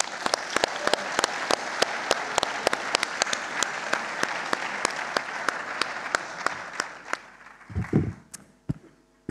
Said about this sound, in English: Welcome, give him an applause